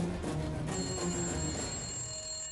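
A telephone rings in a home with a steady electronic bell tone, loud and close, repeating for a couple of seconds before cutting off, with no talking over it.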